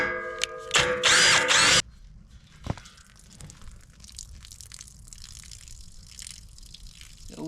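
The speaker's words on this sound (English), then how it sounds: "so let's drill a hole in it." A power drill bores a hole into the water-filled fork frame of a forklift, a loud grinding burst lasting under two seconds, followed by a sharp clank and quieter dripping and trickling water.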